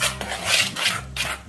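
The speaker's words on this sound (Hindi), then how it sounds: "तो करते हैं हम मिक्स" Flour batter for a dog's birthday cake, made with atta and Pedigree, is stirred by hand in a bowl, giving close rhythmic rasping scrapes, three strokes in quick succession.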